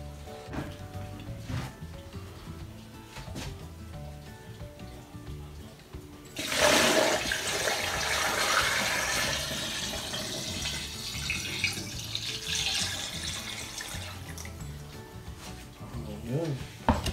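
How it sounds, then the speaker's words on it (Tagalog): Salted water gushes into a container of eggs, a loud pour that starts midway and runs several seconds before thinning out, after quieter handling noises. "ilalagay natin yung tubig na may asin, yung asin na tinunaw natin"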